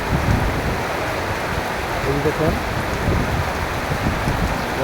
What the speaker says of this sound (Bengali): আজকে গাজীপুরে বৃষ্টি হইতেছে